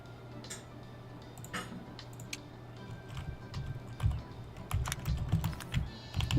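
Someone types on a faulty, misbehaving computer keyboard, with irregular clicks and clacks of keys close by that start sparse and grow into busier, louder bursts of keystrokes.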